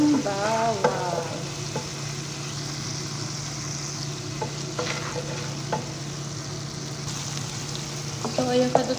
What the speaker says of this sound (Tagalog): So, sautéin muna ako ng bawang.